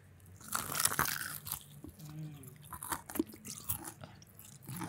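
A crunchy snack is bitten and chewed close to the microphone, with several sharp crisp crunches followed by steady, wet chewing that carries on for a few seconds.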